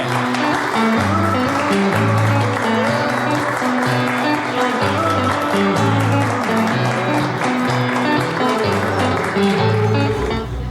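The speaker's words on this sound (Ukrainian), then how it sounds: "Оплесками зустрічаємо наших свідків" Guests clap for the witnesses at a Ukrainian wedding registration ceremony beneath a decorative arch, the applause running under loud, steady background music with a strong low melody.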